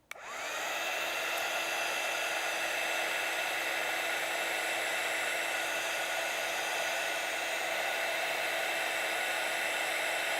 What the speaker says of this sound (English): Heat gun is the best friend with watercolouring, I have to say, it really is.